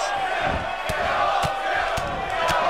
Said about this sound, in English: This bloodthirsty fight zone crowd chanting kill, Owens kill